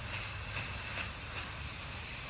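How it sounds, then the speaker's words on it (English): Aerosol spray paint hisses steadily over a paper stencil, a close, continuous broadband spray lasting a couple of seconds with slight pulsing and no talk. "I'm going to spray from this angle so it doesn't go underneath the paper"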